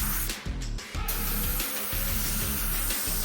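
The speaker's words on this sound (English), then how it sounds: "The process I'm doing here is spraying epoxy primer only on the bare metal" A spray gun hisses steadily as it lays epoxy primer onto bare metal on a Nissan 350Z, a continuous close airy spray with a couple of brief dips near the start.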